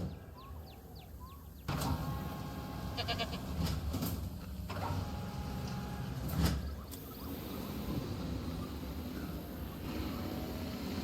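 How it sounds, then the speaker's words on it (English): Goats bleat in Jurassic World Evolution amid the game's ambient rumble, with several short, distinct cries spread across the scene. "this is where the goats come in"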